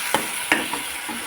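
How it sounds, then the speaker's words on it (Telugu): Curry leaves picked from a home garden fry in hot oil, giving a steady soft sizzle with a few sharp crackling pops, close up, and no voices. "మా దొడ్లో కోసం కరివేపాకు అండి. ఇది దోరగా వేగనివ్వాలి."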